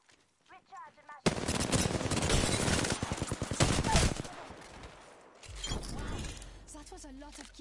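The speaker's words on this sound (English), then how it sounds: "The enemies are shooting." Enemy gunfire in Apex Legends on PS4, a sustained loud burst of rapid automatic shots for several seconds, then lighter scattered fire, with a voice talking before and after the shooting.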